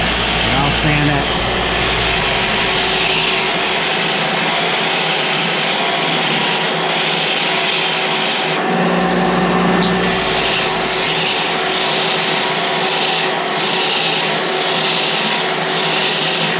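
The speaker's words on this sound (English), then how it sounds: "Then I go to my sander." A power sander works on the wooden handle of a long box turkey call, giving a loud, steady motor drone that runs unbroken through the whole stretch with only slight shifts in tone.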